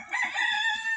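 A rooster crows in one long, drawn-out, strongly harmonic call lasting about a second, close by and loud, with faint low clucking or shuffling beneath it.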